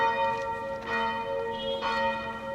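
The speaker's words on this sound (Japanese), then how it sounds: "鐘の音いいですね。" Church bells ring out in Amiens, France, steady overlapping peals with clear ringing tones sustained throughout, heard at a moderate distance from the street.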